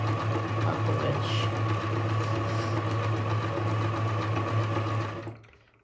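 A Pfaff Hobby 741 sewing machine stitches in a steady, fast mechanical whir for about five seconds, close and even, then stops abruptly, with no talking.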